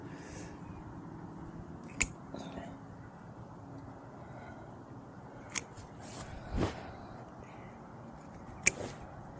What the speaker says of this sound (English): Let me cut off these bare limbs here.